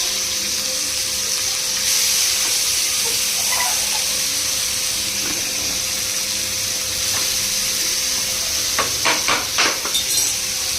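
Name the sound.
stirring curry frying in a pan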